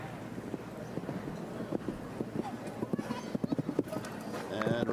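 Show jumping horse's hooves clip-clopping on an arena at the CSIO5* Spruce Meadows Masters, a run of rhythmic thuds mid-clip under commentator talk with wind noise.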